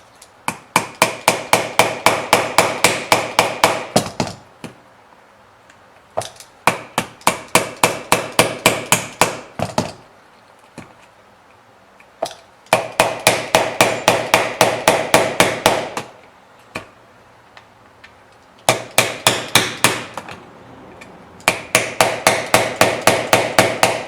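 Repeated hammer taps on a blade breaking the seal of a 2010 Mitsubishi Lancer tail light, rapid sharp metallic strikes in bursts of several seconds separated by short pauses, close and loud.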